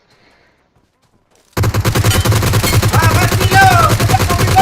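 Loud, rapid automatic gunfire from the mobile battle-royale game PUBG Mobile bursts in after a second and a half of near silence and keeps going in a dense rattle, with a player speaking over it.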